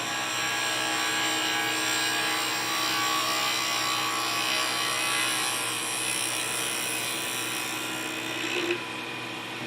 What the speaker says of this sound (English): I'm gonna make a nice smooth pass here, especially with this new carbide.